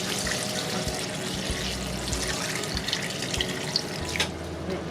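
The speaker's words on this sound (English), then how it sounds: "I'm going to fill this with water." Tap water runs steadily into a pot in a kitchen sink, a close, continuous splashing gush with faint shifts as the pot fills, with no voices.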